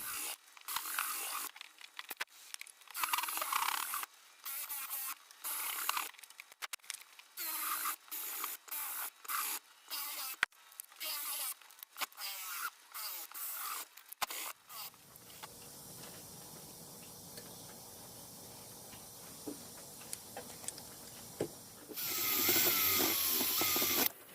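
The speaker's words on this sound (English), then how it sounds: "I'm probably going to break out the drill with a little drum sander and go around the edges and even this out" Drill-driven drum sander working the edges of a hand-carved wooden kuksa cup of ambrosia maple, a rough rubbing and sanding sound in repeated short bursts, then a steadier whirring grind that rises louder near the end.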